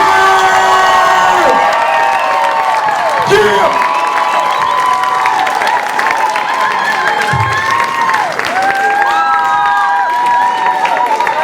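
An audience at a variety show claps and cheers loudly and continuously, a dense crowd roar with whoops and shouts, while a voice yells over it.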